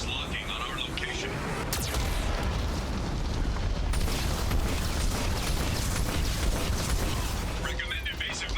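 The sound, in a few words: Geth cannon blasts in Mass Effect 2 video game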